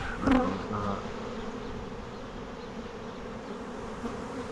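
Steady drone of many honeybees buzzing close by around a hive during a honey harvest, a continuous insect hum with a brief louder knock near the start.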